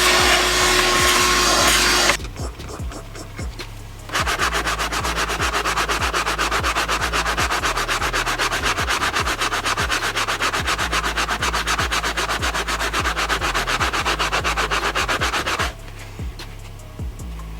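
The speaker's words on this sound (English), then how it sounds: "we'll just vacuum it." A vacuum cleaner hums steadily up close inside a BMW M2's interior, with repeated scraping and rubbing strokes as the nozzle works back and forth over a surface; brief pauses at start and end.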